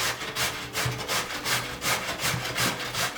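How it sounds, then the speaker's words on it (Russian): A firm pumpkin is rubbed against a medium grater in steady, repeated rasping strokes, roughly three per second, close and fairly loud with no talking. "Натираем на средней терке."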